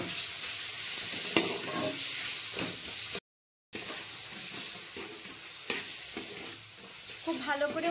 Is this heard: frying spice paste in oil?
yes